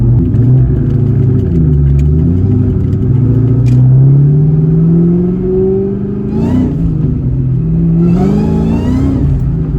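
A 2003 Ford Mustang Cobra revs hard and accelerates, its engine note climbing loud and close, with short bursts of wheelspin noise near the end.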